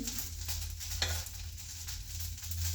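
Onion frying in a pan gives a faint, steady sizzle with a low background hum, quiet and continuous throughout.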